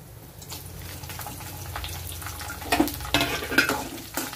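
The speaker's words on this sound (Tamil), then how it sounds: "நல்லா கிளறி விட்டுக்கலாம்." Dried and green chillies stirred and fried in hot oil in a pan for lemon rice, a steady sizzle with spoon scrapes that swell into louder bursts of crackling toward the end.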